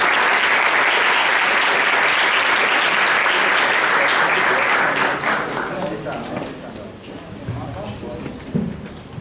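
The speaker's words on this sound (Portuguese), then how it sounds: "Então, passada de palmas." Loud, dense applause from a lecture audience at an education seminar, sustained for several seconds before gradually thinning and tapering off, with a few scattered claps near the end.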